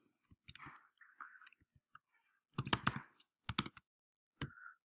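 Code is typed on a computer keyboard in close, crisp bursts of keystrokes separated by short pauses, with nothing else in a quiet room.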